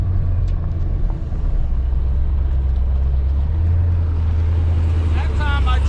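A ProCharged 5.7 Hemi R/T car launching with launch control produces a loud, steady, close engine rumble that holds a deep drone throughout.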